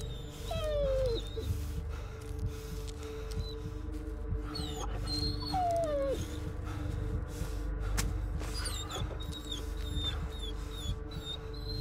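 A dog whimpers in the Blair Witch video game, giving a couple of brief, high, falling whines over a steady low ambient hum. Faint chirps and rustles run through the game scene.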